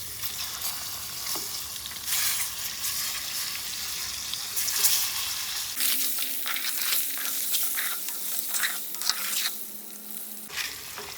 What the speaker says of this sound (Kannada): ಈ ಮೊಟ್ಟೆಯನ್ನು ಇದರಲ್ಲಿ ಹಾಕಿ ಚೂರು ಹುರಿದು ತಗೊಳ್ತೀನಿ.